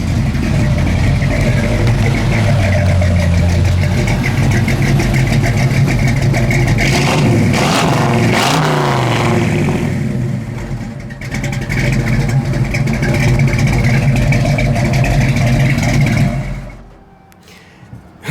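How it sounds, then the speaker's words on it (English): A 1973 Ford Mustang Mach 1 V8 runs loud and close, its rumbling exhaust rising through several revs around the middle before settling back to a steady idle, then cutting off near the end. "We'll go ahead and rev it up just a little bit here"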